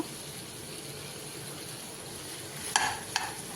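Mutton frying in a pan with ginger, garlic and cumin, a steady low sizzle throughout with two brief bright stirring scrapes near the end, close and moderately quiet, no talking.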